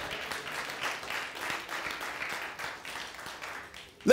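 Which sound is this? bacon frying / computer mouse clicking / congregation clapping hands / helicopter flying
congregation clapping hands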